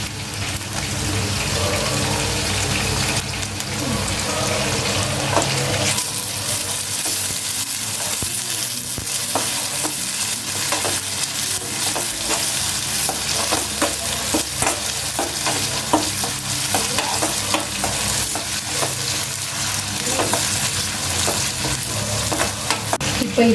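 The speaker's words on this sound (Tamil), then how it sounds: "இப்போ இது கூட தக்காளி சேர்த்துக்கலாம்." Tomatoes stirred and fried with half-cooked onions in a pan for a Chennai-style sangu kari (conch curry): constant loud sizzling with repeated scraping stir strokes, unbroken throughout.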